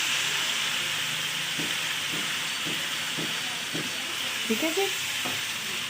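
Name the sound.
ginger garlic paste frying in a pan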